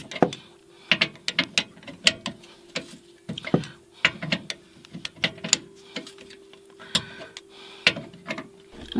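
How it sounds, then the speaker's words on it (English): Ratchet wrench tightening bolts while mounting a Ranch Hand brush guard on a Ford F150 PowerBoost truck, working upside down; steady runs of sharp metallic clicks, close and fairly loud, with a faint background hum. "Doing this upside down, so I wasn't loosening, I was tightening."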